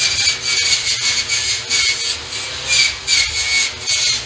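Wire wheel on a power tool grinding slag off a welded metal pedestrian gate, a loud harsh whirring scrape that surges and eases in rhythmic passes, close and continuous.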